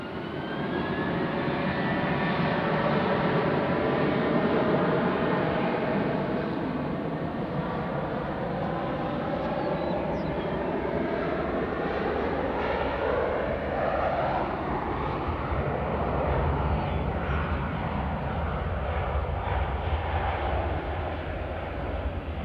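Icelandair airliner on approach to land at Nashville International Airport, its jet engines roaring loudly and continuously overhead as the pitch slowly sweeps and shifts during the flyby, with no voices.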